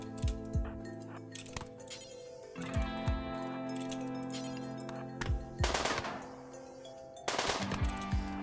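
Sporadic gunfire in the Rimworld colony game: scattered individual shots and short bursts with clinking impacts and chimes between them, moderately loud over a sustained tonal music bed, with no voices.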